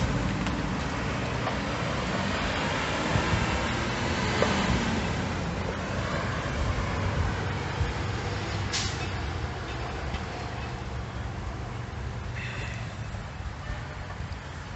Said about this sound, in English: 4 utility crew bucket trucks just came by, and my neighbor that had furniture delivered by a loud diesel truck